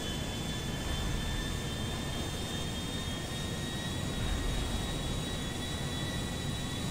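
A modded plane in GTA 5 roars along on engaged thrusters, a dense, steady jet-like rumble and hiss with a faint high whine, loud and unbroken throughout with no talking.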